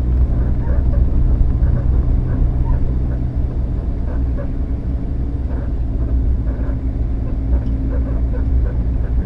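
Road traffic passes a 1974 Valiant, heard as a continuous loud low rumble of engines and tyres that stays steady throughout, with no voices.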